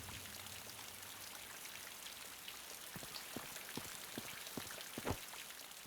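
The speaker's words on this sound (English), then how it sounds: "By the looks of the rain, it could be pouring down soon." Steady rain falls in a Jurassic Park fan-made Source mod game, a soft dense patter with scattered louder drops striking nearby surfaces, no voices.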